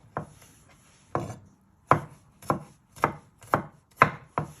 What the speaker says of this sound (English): Just give it one final chop.